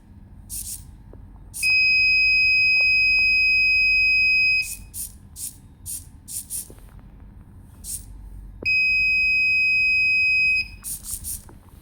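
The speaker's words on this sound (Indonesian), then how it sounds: "saat jaraknya kurang dari 6 cm maka buzzer akan menyala dan lampu LED merah akan menyala" A buzzer on an ultrasonic distance sensor project sounds two steady high electronic tones, the first lasting about three seconds and the second about two. Faint clicks and brief chirps fill the quiet gaps between them.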